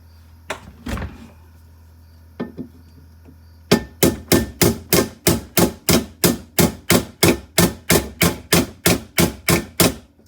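A few scattered metallic knocks, then a rapid, steady run of about twenty loud hammer blows on the sheet metal freezer brackets of a Samsung RFG298HDRS refrigerator, close by.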